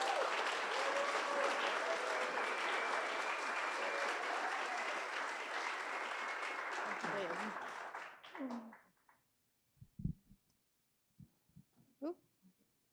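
A conference audience gives sustained applause as a speaker is welcomed to the stage. Dense clapping runs steadily for about eight seconds, then thins out and stops, followed by a few scattered voice sounds in the quiet.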